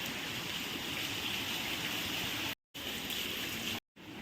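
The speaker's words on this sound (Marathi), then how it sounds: "हे आपल्या गच्चीवरचं पाणी आहे समोर एवढं वाहत आहे" Rainwater rushes off a rooftop terrace during heavy rain in a steady, loud gushing flow, broken by two brief silent gaps.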